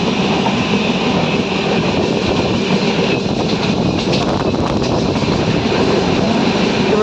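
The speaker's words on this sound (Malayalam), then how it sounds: "ഇവിടെ നിന്ന് റൗണ്ട് അടിക്കും കേട്ടോ ട്രെയിൻ." A train runs along a scenic Kerala railway route through misty hills, its steady rumble and rail clatter loud and continuous throughout, with some wind buffeting the microphone.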